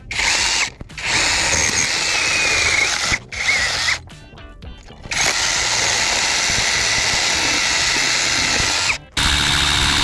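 A power drill whirs loudly in long bursts, boring a hole for a sewer-pipe wall passage, briefly stopping and restarting, with a rattling stretch between runs.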